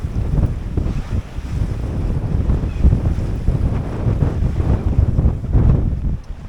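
Strong wind roars over the microphone aboard a 21-foot sailboat under nearly full sail, with building seas washing and slapping against the hull in a loud, continuous rush.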